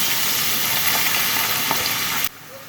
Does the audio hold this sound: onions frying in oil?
yes